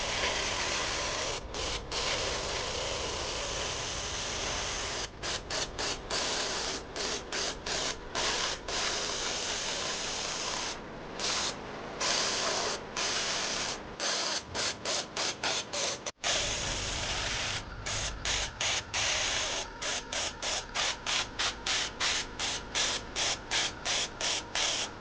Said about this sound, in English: As always, I will use Vallejo brand primer, and I will use my airbrush to apply totally on the surface.